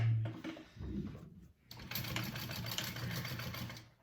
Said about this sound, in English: I'm gonna sew over that one more time so